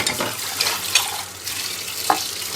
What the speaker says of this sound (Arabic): هشطف الكوبايات بتاعتي كلها مره واحده.